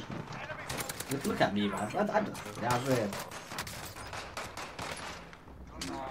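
Rapid gunfire rattles in a Call of Duty Warzone match in Verdansk, crackling bursts running steadily under a player's conversational talk.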